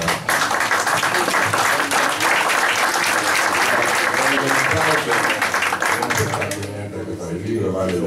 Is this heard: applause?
yes